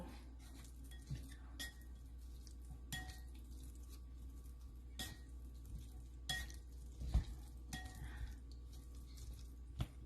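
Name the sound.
mixing Vietnamese dry egg noodles with sauce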